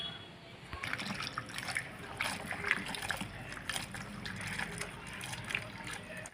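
Lentils being washed by hand in hot water, wet swishing and light splashing as the grains are rubbed and stirred in a bowl, close and steady throughout.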